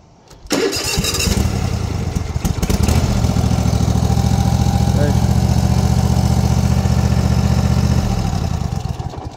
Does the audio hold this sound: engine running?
yes